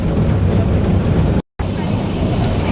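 Steady low rumble and rattle of the Matheran toy train rolling along its tracks through Neral town, loud and close, with a brief dropout midway.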